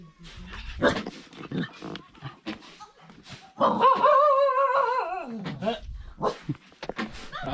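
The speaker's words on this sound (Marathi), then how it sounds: "तिथले कुत्री लगेच भुकायला लागल्यात ते बघा फुल भुकतायत" A dog barks and yelps several times, with one long wavering howl in the middle, while people talk nearby.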